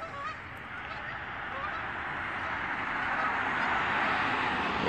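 A flock of geese honks in a dense, continuous chorus, growing slightly louder, with a broad noisy wash beneath the calls.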